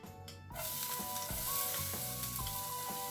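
Garlic hits hot oil in a pan over medium heat for a mushroom and cheese omelette, bursting into a loud, close, continuous sizzle with a few soft stirring knocks, no voices.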